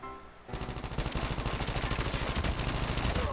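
Rapid automatic gunfire in the mobile shooter Call of Duty Mobile, a loud, continuous burst of evenly spaced shots that starts abruptly and keeps going to the end.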